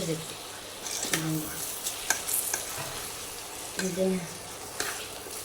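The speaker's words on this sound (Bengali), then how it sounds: "তো এখন পোলাও বসাই দিলাম আপনারা দেখতে দেখুন তো চালটা এখন ভেজে নিব সুন্দর করে" Rice being stir-fried in a pan for pulao, an even sizzle under repeated scraping stirs of a spoon, close and continuous, with a voice talking faintly at moments.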